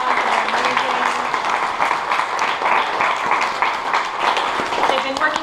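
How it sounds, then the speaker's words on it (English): A school assembly audience applauds a new group of teachers with steady, dense clapping throughout, with voices and crowd noise mixed in. "Let's give this group a round of applause"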